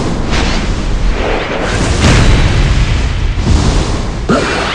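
Explosions in Naruto Online Mobile gameplay: a loud, continuous roaring blast with several sharper bursts layered on top, filling the whole stretch without speech.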